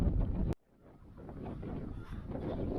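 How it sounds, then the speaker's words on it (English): Outdoor wind gusting across the microphone at a campsite cooking spot, a loud rumble that suddenly cuts out, then a softer breezy rush gradually building back up, with no voices. "Wind is really picked up here."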